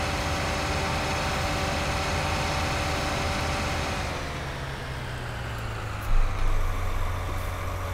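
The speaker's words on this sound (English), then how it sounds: "I left the engine running" A vehicle engine left running in Farming Simulator 19, a steady loud drone throughout that settles into a lower, smoother idle partway through, with a faint clunk near the end.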